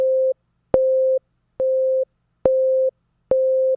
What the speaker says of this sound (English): now you can hear that there's an initial hit before the sine wave gets down to the volume as the other sine wave over here